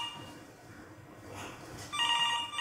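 A telephone in an office starts ringing after a quiet stretch of faint room noise, its electronic ring coming in clear and moderately loud near the end.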